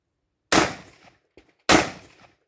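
Two sharp carbine gunshots ring out during practical shooting training, each a loud close blast with a short decaying tail, spaced about a second apart with a faint click between them.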